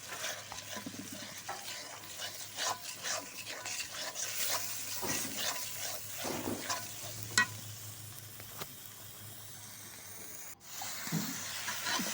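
Vegetable stalks are stirred and sautéed in a pan: a steady close sizzle runs under repeated scraping and tapping of the spoon, with no voices.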